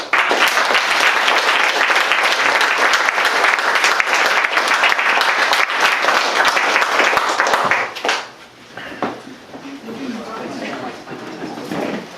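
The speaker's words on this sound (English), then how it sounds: "If we can offer them a round of applause" An audience at a museum panel discussion breaks into dense, steady applause for the panelists, then it thins and fades into scattered claps and murmuring chatter.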